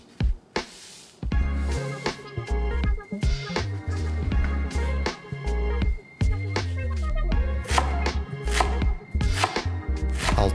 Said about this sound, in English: To conveniently and easily chop a large bunch of green onions, a simple paper towel can come in handy.